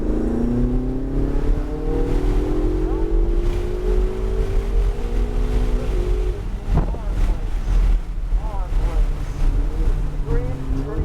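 A Ferrari on a racetrack, its engine note climbing steadily under acceleration with harmonic tones, then easing and rising again through corners, mixed with wind rush and a voice talking over it.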